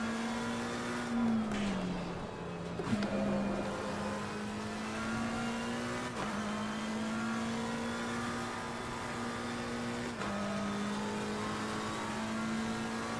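Race car engines in Assetto Corsa Competizione at Zandvoort drone steadily at high revs, with small dips at gear shifts and a continuous, fairly faint whine throughout.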